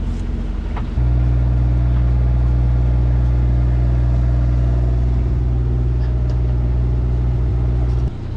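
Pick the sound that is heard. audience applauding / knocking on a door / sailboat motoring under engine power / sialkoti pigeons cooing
sailboat motoring under engine power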